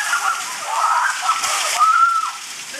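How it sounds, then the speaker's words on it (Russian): Heavy rain pours steadily at an outdoor dressage competition in Zhashkiv, Ukraine, a loud broadband wash of falling water with a faint voice briefly heard under it. "это у нас вот такой дождик"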